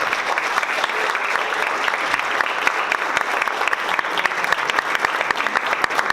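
Sustained audience applause for the actors at an arts award ceremony, dense and steady for the whole stretch with no voices rising above it.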